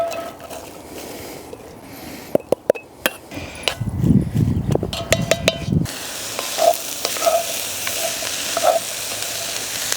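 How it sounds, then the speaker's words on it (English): Onions and apples sizzle in a pot of smoked baby back rib stew on a solo stove, a steady close frying hiss broken by a few sharp knocks and stirring scrapes midway. "Hear that sizzle?"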